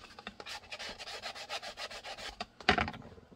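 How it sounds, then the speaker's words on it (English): Rapid rhythmic scrubbing of a 120-grit drywall sanding sponge against metal to remove burrs, close and dry, ending in a few heavier scraping strokes. "This is a 120 grit drywall sanding sponge."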